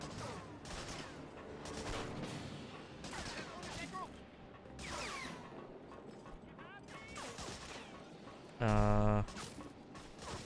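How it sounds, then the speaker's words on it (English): Gunfire in the video game Medal of Honor: Frontline crackles in dense, rapid volleys amid busy battle noise, with game voices speaking over it and a brief loud tonal blast near the end. "Someone's trying to shoot me."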